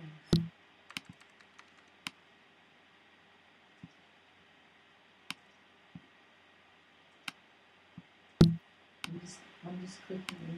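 Computer mouse clicks sound as sparse, sharp, faint ticks spaced irregularly across a quiet background during an online session, with a brief burst of talk near the end.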